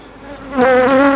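Honeybees buzz from an open hive during a spring inspection, a droning hum that swells louder partway through and holds steady, close and continuous with no voices.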